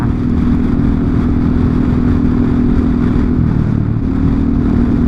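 A new Honda Forza 350 scooter fitted with an Akrapovic exhaust runs close by with a loud, steady, throbbing engine note that dips slightly near the end, with no talking.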